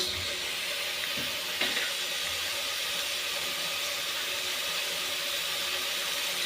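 Hakka noodles fry in a hot pan with a loud, continuous hissing sizzle, steam and a faint stir scrape early on, unchanging to the end.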